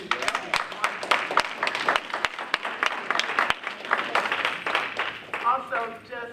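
An audience at a Cleveland CPC quarterly meeting breaks into applause, sharp individual claps standing out over a rougher crowd texture, with a voice speaking briefly near the end.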